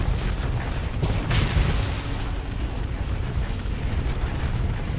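Missile explosions from the space combat game Starsector: a dense, continuous rumble of booms and bursts rolls on without pause, loud and steady, with a sharper impact early on.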